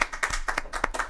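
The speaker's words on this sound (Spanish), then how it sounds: "Un aplauso, venga." A studio audience claps for guests being introduced on a Spanish comedy show, a short burst of quick, close, uneven claps.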